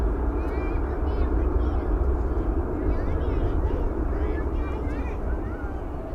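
A Boeing 777 airliner at DFW Airport gives a continuous, broad jet roar that holds steady throughout, with faint voices barely audible beneath it.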